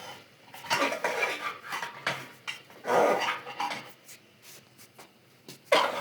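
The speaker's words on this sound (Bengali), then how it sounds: "এবার মটন ছাড়বো, মটনটাকে ভালো করে কষিয়ে নেব।" Mutton being stirred into a spice masala in a cooking pot, with repeated metallic scraping and clinking of a spoon against the pot, and a dog barking faintly nearby.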